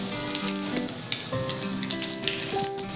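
Mustard seeds, cumin and asafoetida sizzle and crackle steadily in hot oil while cooking gawar bhaji, a continuous close frying hiss with scattered seed pops and light stirring, under a faint musical background.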